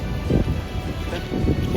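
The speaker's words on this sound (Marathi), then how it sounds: "मस्तपैकी पाऊस पडतोय अजून." Steady rain falling outdoors in the mountains, a dense wash of low rumbling patter with a few louder gusts, continuous throughout with no voices.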